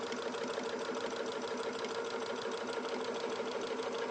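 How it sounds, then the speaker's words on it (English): A sewing machine runs steadily while stitching a double line, a continuous fast mechanical whir and needle chatter heard up close and alone, with no pauses. "Let's just pop through a double line of stitching, and then I'm going to put the next section in."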